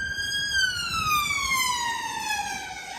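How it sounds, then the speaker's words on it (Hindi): An ambulance siren passes through traffic on a London street, its wailing tone sweeping steadily downward in pitch as the vehicle goes by, loud and continuous over a low rumble of road noise. "आप देखें, एम्बुलेंस आ रही है तो पूरी गाड़ियां कैसे रुकी हुई है।"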